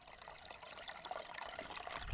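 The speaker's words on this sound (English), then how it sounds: "The water's flowing under these rocks." Steady trickling and gurgling of water running under rocks in Scotland, a continuous close bubbling stream with no voices.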